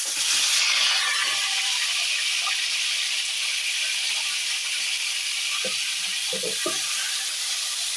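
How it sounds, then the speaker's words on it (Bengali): An egg frying lightly in a pan gives a steady, close sizzle and hiss that runs the whole time, with a few soft clinks low in the mix and no talking. "আমি ডিমটা এখন হালকা করে ভেজে নেব।"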